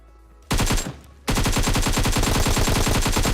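Rapid automatic gunfire in the video game PUBG, a short burst followed after a brief pause by a long sustained stream of loud, closely spaced shots.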